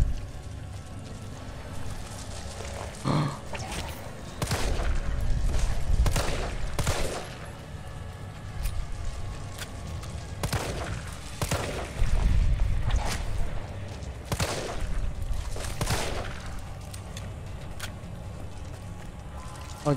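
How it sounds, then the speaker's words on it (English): Shotgun blasts in Resident Evil 3 Remake, a series of heavy booming shots fired at irregular intervals over a continuous low game rumble, loud and close. "Man, I'm just wasting shotgun ammo."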